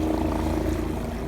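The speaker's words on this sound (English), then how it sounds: "Sorry about the helicopter." A helicopter drones overhead above the River Thames foreshore, its engine and rotor making a steady, loud low rumble throughout with no voices.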